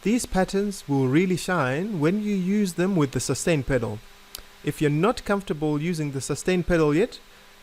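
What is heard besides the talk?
No distinct noise like a dog, phone or traffic.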